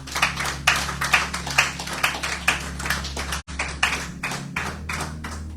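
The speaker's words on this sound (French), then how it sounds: "Applaudissons le Seigneur." A church congregation clapping in praise during a worship service, a steady rhythmic beat of many hands over a low background hum, continuing with a brief break near the middle.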